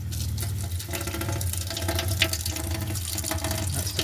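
Cold water tap in a campervan runs steadily into the grey tank, a continuous close rushing stream with faint low hum beneath, no talking.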